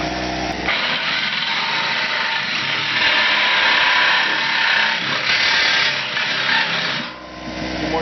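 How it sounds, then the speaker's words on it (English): A reciprocating saw cuts a metal barrel steadily and loudly for about seven seconds, its harsh buzzing rasp continuous before easing off at the end. "Now we get the Sawzall in here, we can cut around it."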